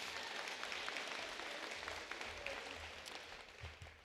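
Scattered applause from an audience at a school district teacher recognition event, a steady wash of clapping that holds at moderate level throughout without voices over it.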